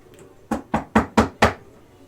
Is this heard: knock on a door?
yes